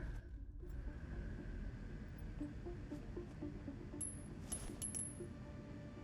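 A small coin drops in the Hitman (2016) video game, a brief light clink around the middle of the clip over a steady low hum.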